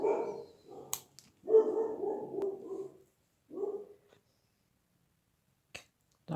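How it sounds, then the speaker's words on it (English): Indoor dogs bark in short, excited bursts at a cat, several close barks spread across a few seconds with brief pauses and a faint whimper between. "Dogs are going nuts over the cat."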